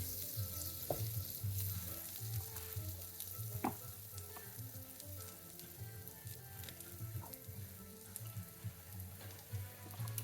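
French toast sizzling and frying in a pan, a steady quiet crackle with occasional soft clinks and scrapes of a utensil, no voices.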